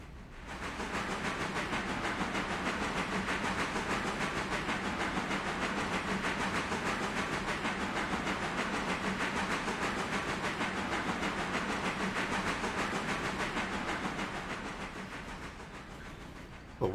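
A train runs steadily in the Railroader simulator game, a constant broadband rumble and hiss that holds level throughout and fades slightly near the end, with no talking.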